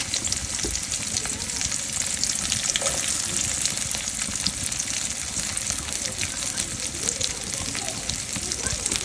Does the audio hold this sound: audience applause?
no